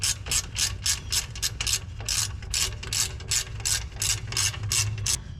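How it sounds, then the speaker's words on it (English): An 18mm ratchet snugs up brake bolts on an off-road vehicle, with rapid, evenly spaced clicks repeating steadily and close up throughout. "I'm going to proceed with my 18mm, and I'm going to snug them up"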